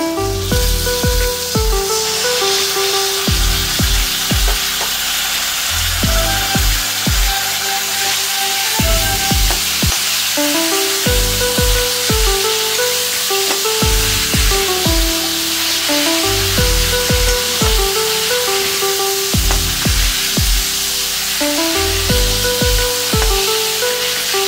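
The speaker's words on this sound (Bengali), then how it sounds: "এবার আমি দিয়ে দেবো এর উপরে এই তেঁতুল আর চিনি দিয়ে গোলা জলটা।" Spices frying in oil hiss and sizzle loudly and steadily as tamarind and sugar water is added for a fish curry, with intermittent utensil knocks and stirring scrapes over a continuous spattering hiss and no voices.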